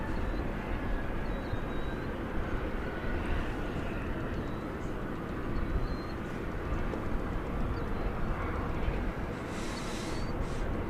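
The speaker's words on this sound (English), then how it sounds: "According to the radar, it's an Airbus A321" An American Airlines Airbus A321 at DFW Airport at night, a steady broad engine roar that fills the scene and holds level throughout, with a faint voice in the background.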